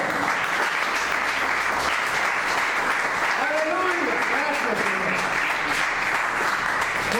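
A church congregation breaks into sustained applause offered to God during a sermon, a dense, even wash of clapping with scattered voices and cheers mixed in.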